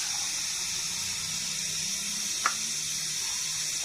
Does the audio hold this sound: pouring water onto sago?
yes